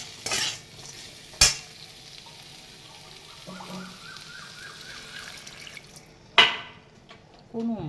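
Fish with green chilli and ginger is stirred into a pan of cooked eggplant, then a little water is added. Soft sizzling sits under a few loud spoon knocks against the pan, with a faint wavering tone in the middle.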